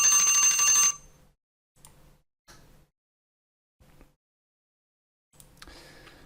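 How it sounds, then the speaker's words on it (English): An hour timer alarm goes off with loud, rapid electronic beeping for about a second and then stops. A few faint, scattered clicks follow in near silence. "that was the end timer for my hour"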